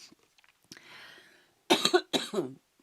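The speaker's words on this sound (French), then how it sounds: "là j'ai toussé dans le micro, je suis désolée" Two harsh coughs close to the microphone, each a short burst, after a soft breath and near silence.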